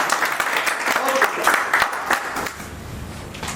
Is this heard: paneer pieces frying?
no